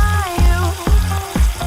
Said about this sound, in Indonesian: Lalu masukkan ke dalam minyak yang udah dipanasin